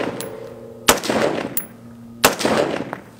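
A toy Dragon Fire rifle fires two separate semi-automatic shots at a target of bowling pins. Each shot is a sharp, loud crack followed by a short decay, with about a second and a half between them and no talk.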